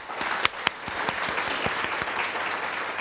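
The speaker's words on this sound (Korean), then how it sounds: "우리 하나님께 감사 박수를 좀 올려드립시다" A church congregation at a Korean-language Sunday service breaks into applause, a sustained dense patter of many hands with a couple of sharper claps near the start, fairly close and without talk.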